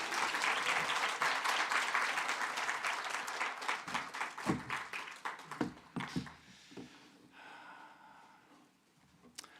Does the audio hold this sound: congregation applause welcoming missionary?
yes